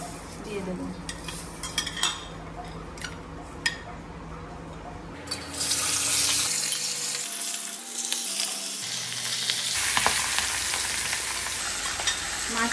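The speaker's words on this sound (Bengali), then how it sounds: "গরম তেলে আমি মাছের মাথার টুকরোগুলো দিয়ে দেব।" Rohu fish head pieces drop into hot oil and burst into a loud, steady sizzle that keeps crackling on its own, with brief stirring clatter.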